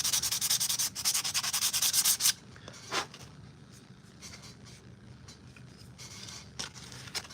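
Hand sanding of a foam armor piece for a Kal Skirata costume: rapid, loud rasping strokes for about two seconds, then softer, scattered scrapes and rubs close by.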